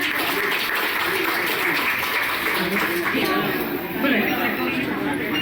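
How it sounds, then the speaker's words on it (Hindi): Audience applause at a hospital initiative event, a steady wash of clapping from a crowd with chatter mixed in, sustained throughout. "तो जोरदार तालियां इनके लिए।"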